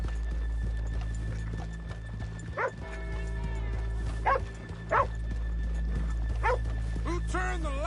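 Horse hooves clip-clop steadily in Red Dead Redemption 2 over a low constant game hum, with a dog barking and a horse whinnying in short bursts, while voices talk intermittently.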